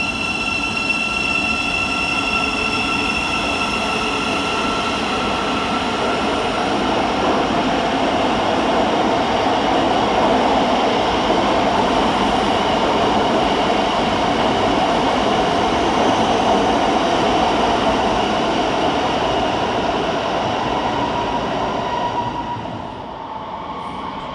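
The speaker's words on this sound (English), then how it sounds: "So let's get started here at London St Pancras International with 700-135. Departing with the 1036 via Thameslink service from Three Bridges to Bedford." A Class 700 Thameslink electric train pulls out of London St Pancras International, a loud continuous hum of traction motors and rolling wheels with faint squeal, sustained and close before easing at the end.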